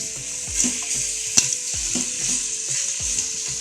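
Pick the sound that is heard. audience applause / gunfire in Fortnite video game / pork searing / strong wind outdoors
pork searing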